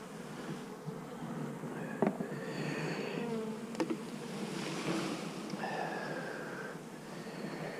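Honeybees crawling out of a hive after a squirt of spray make a dense, continuous buzzing drone with a few sharper clicks and knocks mixed in, close and steady throughout.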